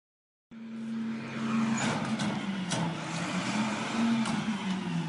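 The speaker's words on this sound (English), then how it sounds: "A convoy of 3 armored supply trucks is winding uphill through the gorge." Three armored supply trucks grind uphill through a gorge in a convoy, a steady low engine drone with a wavering tone that starts abruptly and holds at an even, fairly close level.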